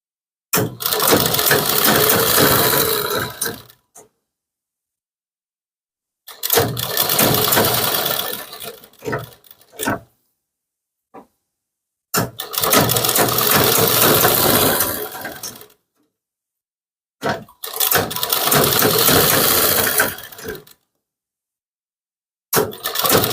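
A sewing machine stitching a kurti runs in four loud bursts of rapid mechanical whirring, each lasting several seconds and separated by silent pauses.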